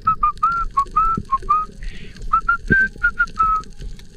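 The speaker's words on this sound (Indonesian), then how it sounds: "Saya menyelam sambil bersiul" A person whistles a quick, uneven tune of short bright notes and trills while spearfishing, close and clear over a low muffled rumble.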